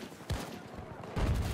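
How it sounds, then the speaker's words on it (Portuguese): Bursts of gunfire crackle in short volleys in the video game Battlefield 2042, loud and close, with a low rumble and some faint voices mixed underneath. "Tava ouvindo tiros."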